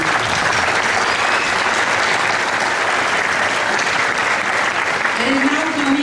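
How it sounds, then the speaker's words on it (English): Audience applause at a graduation commencement ceremony, a steady dense wash of many hands clapping that fills the hall throughout, with a faint voice surfacing near the end. "Let's give a round of applause to those who have made this event a very successful one."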